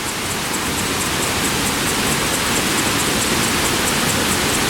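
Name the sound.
small waterfall flowing off basalt, Iguazu National Park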